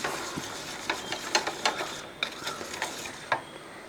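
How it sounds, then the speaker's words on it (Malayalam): A spoon stirs an egg and flour batter with turmeric powder in a bowl, making quiet, irregular scraping clicks at close range with no talk. "ആ മഞ്ഞൾപ്പൊടിയും ഇട്ട് ഒന്ന് ഒന്നുകൂടെ ഇളക്കാം"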